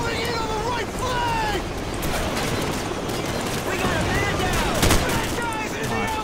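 Gunfire from the video game Call of Duty 4, a busy urban firefight with dense, continuous shooting and bursts, plus distant engine noise, under an ongoing game soundtrack and chatter.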